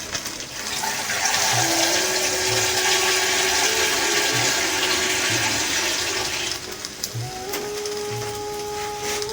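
Water poured into a pot for paneer pulao, a loud, steady rushing gush that runs for several seconds and then tapers to a thinner trickle, with faint clinks and a low hum underneath.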